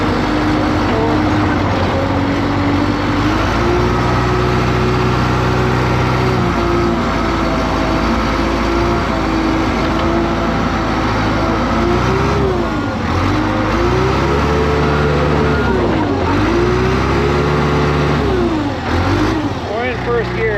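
A John Deere 455G crawler loader with a torque converter runs in first gear, its engine drone steady and loud with pitch rising and dipping as it loads up, while someone talks over it.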